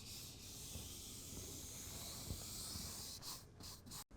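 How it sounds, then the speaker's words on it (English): A cloth wipes isopropyl alcohol over a roughened truck bed surface on a 2024 GMC Canyon, making a soft, continuous rubbing hiss close by, fading out near the end. "take our isopropyl alcohol and wipe it down"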